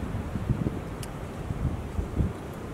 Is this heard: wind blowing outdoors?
yes